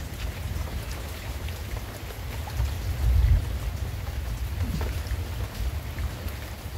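Heavy rain pours down during a flood, a dense steady roar of water with deep rumbling undertones swelling briefly midway, continuous and close without voices.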